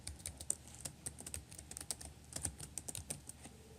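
Computer keyboard being typed on: quick, irregular clicks of keystrokes close by, fairly faint and heard alone without talk.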